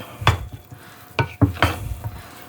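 A spoon scrapes and thumps through moist cornbread stuffing in a pan, making several distinct stirring strokes with soft wet squelches and faint sizzling in between, close up and without talk.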